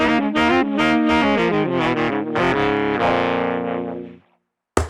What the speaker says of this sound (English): the Tone Sovereign, which is the King of Tone, which sounds like this on the HX Stomp